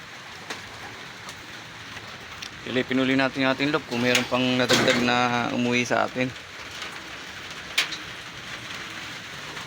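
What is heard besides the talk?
rain falling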